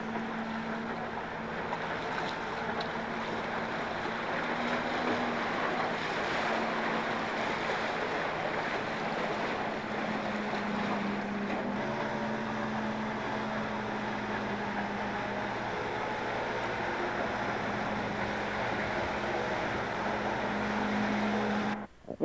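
Kawasaki personal watercraft running on open water during a 1990s WaveRunner and jet ski race outing, its engine a steady continuous drone heard throughout with wind and water noise, no talking.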